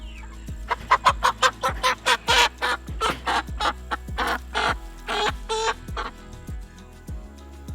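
Chickens cluck and squawk in a loud, rapid series of bursts close by, with a steady low mechanical hum running underneath throughout.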